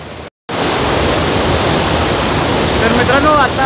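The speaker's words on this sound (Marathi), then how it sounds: "आपण आता धबधब्याच्या ठिकाणी आहे" A waterfall at Ramling Bet near Bahe in Sangli gives off a steady, dense roar of rushing water, loud and close, with a brief cut near the start.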